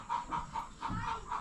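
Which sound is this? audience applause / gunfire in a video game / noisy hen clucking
noisy hen clucking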